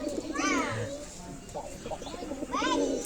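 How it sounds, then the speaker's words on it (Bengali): Pigeons coo softly in low, throaty bursts while a voice chatters and faint bird calls rise over a busy background. "কি সুন্দর পায়রাটা ডাকতেছে"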